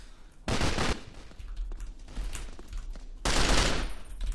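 Gunfire in the block-built shooter game Blockstorm, with loud bursts of shots near the start and end and a quieter stretch of rattling fire between them, no voices.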